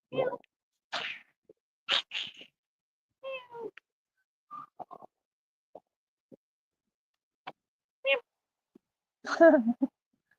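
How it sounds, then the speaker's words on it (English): A cat meows several times in short, separate calls with quiet gaps between them, close by and fairly soft. "that's a cute cat."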